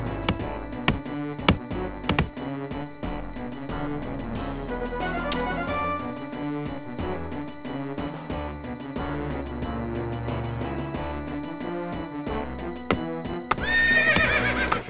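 Horses neigh and whinny in the real-time strategy game Warcraft: Orcs & Humans, with loud clicks and clops over steady game music and a sharper whinny near the end.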